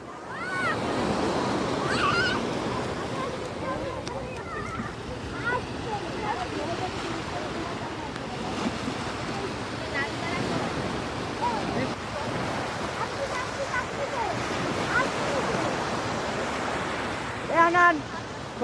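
Sea surf rolls steadily onto a beach, a continuous wash of breaking waves with wind noise, while people talk and call out nearby throughout.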